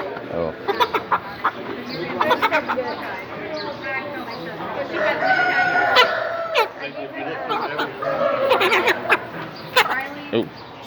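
Chickens at a 4-H poultry weigh-in, with bursts of clucking and squawking from birds being handled while people talk nearby throughout.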